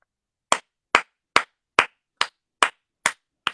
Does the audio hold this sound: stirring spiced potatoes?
no